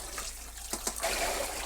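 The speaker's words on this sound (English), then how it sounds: "Then you wanna run it under cold water and get all this excess starch off." Cold tap water pours over jjolmyeon noodles in a strainer as the starch is rinsed off, a soft steady splashing with a few louder spatters midway.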